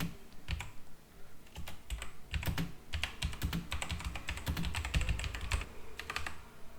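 Rapid typing on a computer keyboard, a dense run of close, crisp key clicks with uneven rhythm and a few heavier strokes, continuing steadily throughout with no talking.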